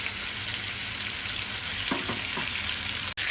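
Pieces of chicken sizzle in a hot pan, a steady close crackle of frying with a few brief stir scrapes and no voices.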